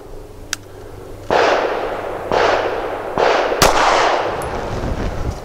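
A Sig P365 XL pistol fires three loud, close shots at roughly one-second intervals using 147-grain Federal Syntech Training Match ammunition, each crack trailing into echo, with a sharper click or pop near the last shot.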